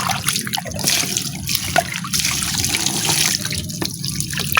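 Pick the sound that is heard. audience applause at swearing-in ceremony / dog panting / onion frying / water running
water running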